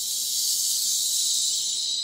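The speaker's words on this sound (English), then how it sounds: "Waterfall breath." A long exhale from a calming breathing exercise taught in a children's social-emotional lesson, heard as a steady, airy hiss that holds evenly for about two seconds with no talking.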